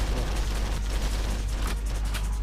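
Gunfire in the Ex Machina vehicle combat video game, fought in a Colosseum arena: a dense, continuous barrage of shots blurs into a steady roar with sharper bursts near the end, loud and close.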